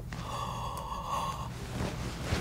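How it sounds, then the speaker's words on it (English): Heavy, raspy breathing, with one drawn-out breath followed by a rougher exhale, heard close and alone over a faint background hiss. "The heavy breathing is the creepiest part of this."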